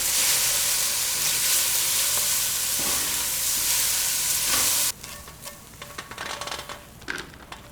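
Mushrooms fry in oil in a pan, giving a loud, steady sizzle that cuts off abruptly partway through and leaves quieter clatter and faint crackling behind it.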